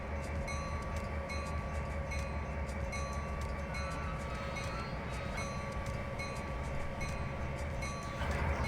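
A model train runs steadily on a layout during an operating session, giving a continuous close rumble and rattle with a faint tonal hum, with no talk over it.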